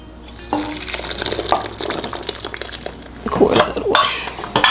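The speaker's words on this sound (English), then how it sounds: "We're going to mix together the sugars and the melted butter." Sugars and cooled melted butter are stirred together in a bowl with a utensil, giving repeated scraping and clinking against the bowl, close up, with faint talk in the background.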